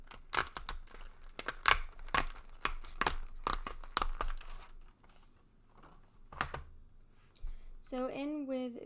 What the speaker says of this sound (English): I'm going to take everything out of the packages or packaging